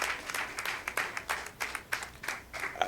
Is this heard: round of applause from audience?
yes